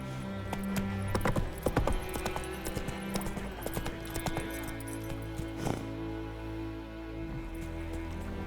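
In The Witcher 3, the horse Roach trots along, hooves clip-clopping in a quick uneven rhythm with occasional clinks. The steps sound close and moderately loud over a low tonal music bed.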